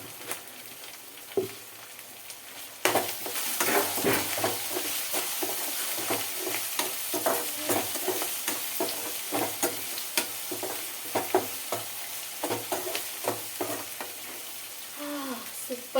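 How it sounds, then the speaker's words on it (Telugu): Turmeric and salt fry in hot oil in a pan, giving a steady close sizzle that starts abruptly and runs on, broken by repeated scraping stirs at an irregular pace. "అలాగే పసుపు, కూడా చక్కగా నూనెలో వేగనిచ్చేద్దాం."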